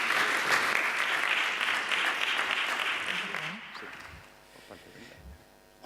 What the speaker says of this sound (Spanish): Un aplauso para nuestro moderador